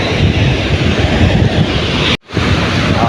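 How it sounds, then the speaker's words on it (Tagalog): Small sea waves wash against a beach where boats are parked, a loud continuous rush of surf mixed with heavy wind buffeting the microphone, with a brief dropout near the end. "Ang dagat ay napaka may alon naman, hindi naman kalakihan ng alon."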